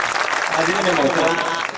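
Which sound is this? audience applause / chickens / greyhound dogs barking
audience applause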